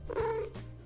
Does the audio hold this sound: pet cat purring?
yes